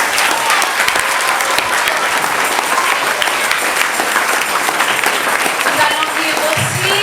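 A church congregation at a monthly school mass claps loudly and steadily, a dense sustained wash of applause close by that carries through the whole stretch, with some voices mixed in.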